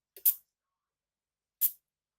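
A Rasasi Dhan al Oud perfume bottle's sprayer fires two short, crisp hissing spritzes about a second and a half apart, close up in otherwise near silence, the first with a tiny click just before it.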